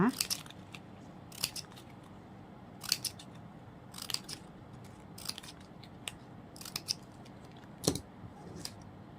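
Scissors snip off ribbon ends while making a Thai ribbon flower coin favor, sharp close crisp cuts in irregular clusters of several quick snips with quiet pauses between.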